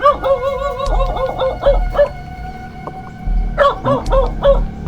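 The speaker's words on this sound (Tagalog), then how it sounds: "Merong asong tumatahol." A dog yips and barks in short, high-pitched bursts, with pauses between them, over a low outdoor rumble at night near a cemetery in Pinamungajan, Cebu.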